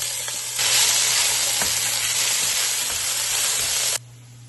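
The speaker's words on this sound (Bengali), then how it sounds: "তেলটা গরম হয়ে গেলে আমরা এখানে পেঁয়াজ দিয়ে দিব।" Onions sizzle hard in hot oil for Kashmiri-style beef rogan josh, a loud steady broadband frying hiss that begins abruptly as they hit the pan and then cuts off sharply near the end.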